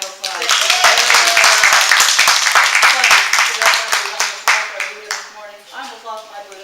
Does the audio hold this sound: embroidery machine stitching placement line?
no